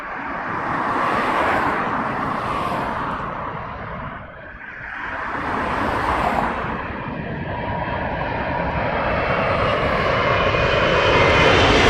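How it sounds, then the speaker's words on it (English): An Etihad Airbus A380 arrives at London Heathrow on runway 27, its loud jet engine roar swelling overhead, dipping briefly, then building again into a sustained rushing rumble with traffic noise faintly underneath. "So this is an Etihad A380 inbound at London Heathrow, runway 27 in use."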